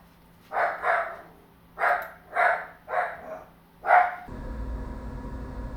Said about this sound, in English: We're going to start barking now.